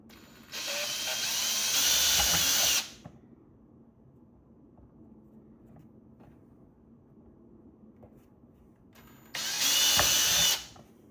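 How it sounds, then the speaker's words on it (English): A power drill boring bolt holes during a truck DC-DC charger install runs in two loud bursts, a long one of about two seconds and a shorter one later, with quiet shop ambience between. "So I'll grab my drill, and we'll start with something small here."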